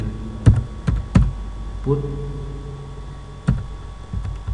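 Code being typed on a computer keyboard in a C# temperature-conversion program, a few sharp separate keystrokes near and loud over a low steady hum, with a brief tonal sound in the middle.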